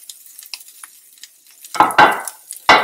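Grilled chicken malai boti is scraped around a non-stick frying pan in several harsh bursts near the end, after faint scattered clinks and sizzle.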